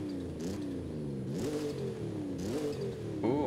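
A stock Ford Bronco in the racing game Forza Horizon 5 revs in place, the engine note swooping up and falling back in three distinct blips before a fourth rev starts, with no talk over it.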